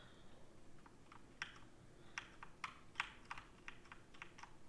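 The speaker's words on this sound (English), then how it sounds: "sorry if you guys hear my keyboard clicking a lot, it's pretty noisy" Computer keyboard keys clicking in a quick, irregular run of sharp taps, close and fairly quiet, with no one talking, while Farming Simulator 19 plays.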